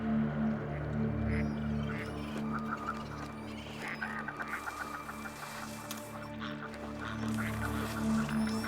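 Wild birds in a snowy winter landscape calling out warnings, repeated clucking and quacking cries in short bursts over a low steady hum, moderately near.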